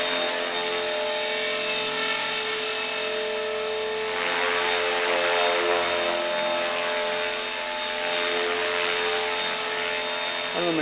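Blade CP RC helicopter flying nearby, a steady loud rotor whine with high tonal motor harmonics that holds continuously throughout, without any talking.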